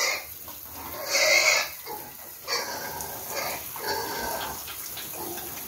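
A pregnant sow gives several squealing grunts, one loud and long and the rest shorter, spread out over a low farmyard background and heard fairly close.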